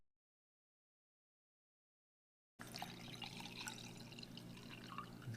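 Water pours into a pouch of lemon drink mix from a British military vegetarian ration, a steady close-up splash and trickle that starts after more than two seconds of silence and runs on to the end.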